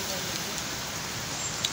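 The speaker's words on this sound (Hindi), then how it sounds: "सुबह भी बारिश चल रही है थी।" Heavy rain falling in Alwar after a night-long downpour, a dense, even wash of steady rainfall with one faint brief tick near the end.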